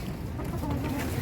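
A broody hen sitting on a clutch of eggs gives low, soft clucking that murmurs steadily at close range, with no talk over it.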